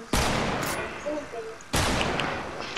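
Fortnite gunfire: two loud, sharp shots with booming tails, about a second and a half apart, alongside a player's voice and faint in-game noise.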